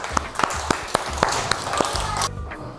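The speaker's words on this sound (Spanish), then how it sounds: "Un aplauso a la clase, que la ha hecho muy bien," A classroom of children clapping in a chess lesson, a run of sharp, fairly regular claps under a faint voice, ending in a brief lull.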